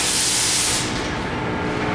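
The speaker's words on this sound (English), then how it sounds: "Before we put the mats down, we'll spray some disinfectant on the floor." Disinfectant sprayed onto the floor of a crew vehicle gives a loud, close hiss of mist that eases after the first second into a softer, lingering spray noise.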